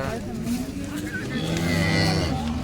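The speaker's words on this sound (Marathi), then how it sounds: "वेळेला झालेली गाय" A cow close to calving lets out a long, low moo close by, with a faint voice underneath.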